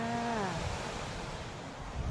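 Sea waves wash continuously on the beach at Khao Phlai Dam, Nakhon Si Thammarat, as a steady broadband rush. A brief tonal sound at the start falls away, and no one talks.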